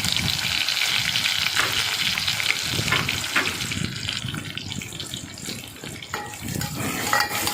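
Loud, steady sizzling of onions frying in a pan, with occasional stirring scrapes and clatters, close up and continuous throughout.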